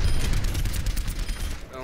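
Helix rocket shots in the Overwatch video game, dense booming blasts and crackling explosions overlapping in a loud, continuous rumble, with a voice talking underneath.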